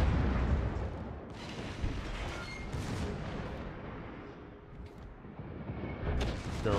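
Naval gunfire roars from the Soviet cruiser Moskva in World of Warships: heavy booming salvos with rumbling tails, a big blast at the start and more shots spaced a second or two apart, with no speech.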